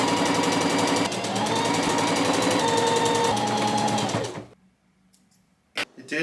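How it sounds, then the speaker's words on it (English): Sewing machine running a straight stitch on a thrifted shirt, a fast steady mechanical whir for about four seconds that stops abruptly, followed by near silence and a brief clack. "So I'm just going to be using a straight stitch."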